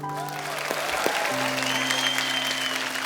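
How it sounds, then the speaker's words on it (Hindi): A studio audience at a comedy show applauds the performers, steady clapping running throughout alongside sustained musical tones. "जोरदार तालियां हो जाए Thank इन फनकारों के लिए।"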